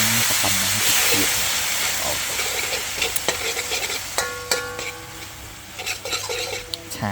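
Beef and krasang stir-fried in a pan, a steady sizzling hiss under repeated sharp scrapes and clanks of a spatula against the metal, close and loud throughout.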